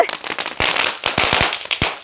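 Diwali firecrackers go off in a rapid, uneven series of sharp cracks and bangs, loud and close, with crackling between the bursts.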